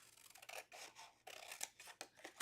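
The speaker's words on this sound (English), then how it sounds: "we're going to take our scissors and you're going to cut up the score line" Scissors cut along the score line of a paper box template in a few close, quiet snips and slides, with soft rustling of the paper between cuts.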